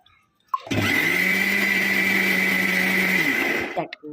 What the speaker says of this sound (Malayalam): നമ്മൾ മിക്സിയിൽ ഒരു 2 സെക്കൻഡ് ഇട്ടൊന്ന് ജസ്റ്റ് ഒന്ന് അടിച്ചിട്ട് എടുത്തുകൊണ്ട് വന്നിട്ടുണ്ട്